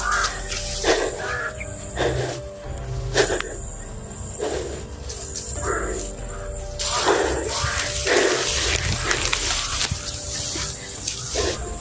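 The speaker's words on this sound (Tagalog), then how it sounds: "Napakadaming uwak" Several crows caw repeatedly at a moderate distance, harsh calls spaced a second or two apart over a steady hiss of background noise.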